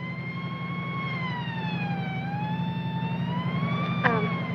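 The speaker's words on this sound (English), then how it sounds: "It is a motorcycle cop." A wailing police motorcycle siren in a 1945 film keeps sweeping up and down over a steady, rumbling engine drone, with a brief click near the end.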